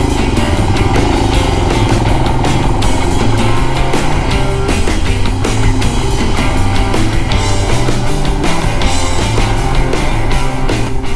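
A Royal Enfield Himalayan motorcycle rides along with a loud, continuous thumping engine note and steady rumble throughout, no voices heard.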